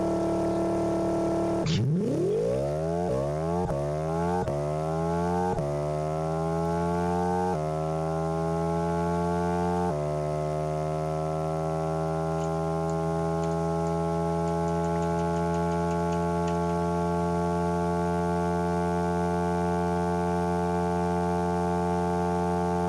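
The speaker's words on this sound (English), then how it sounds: "I don't know why I decided to go ahead and make a 9-cylinder engine, but I think it sounds cool." A nine-cylinder race car engine in BeamNG.Drive revs up from idle, its harmonic pitch climbing through several quick gear-like steps before holding a steady, loud drone for the rest of the run, with no talking.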